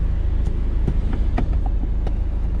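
A turbocharged Toyota MR2 drives along with a steady low engine rumble and road noise from inside the cabin, punctuated by faint clicks and rattles, with no talking.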